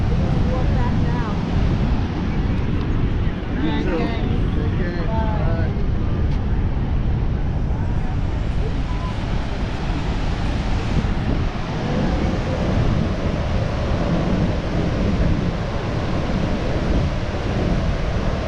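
Loud, steady rush of fast-flowing water at Niagara Falls roaring continuously, with wind buffeting and faint voices underneath.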